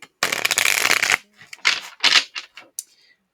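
A deck of tarot cards being shuffled: a sustained riffle of dense card flutter for about a second, then several shorter bursts of card slaps and taps, close and fairly loud, with no talk.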